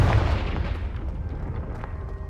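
Confringo blasting spell in Hogwarts Legacy bursting into a heavy, rumbling explosion right at the start, its low boom rolling on and slowly decaying across the rest of the moment with no voices.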